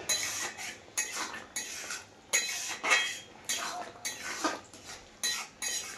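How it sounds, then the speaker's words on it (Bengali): A metal utensil stirs paneer curry in a cooking pot, giving a series of sharp scraping clinks against the pot's sides in an uneven rhythm, close and alone. "এইভাবে কলাই মিক্স করে দিচ্ছি"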